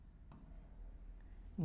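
A marker or chalk writing a figure on a board during an accounting lecture, with scratchy strokes in a short steady run, close and moderately quiet, and a voice starting to speak at the end.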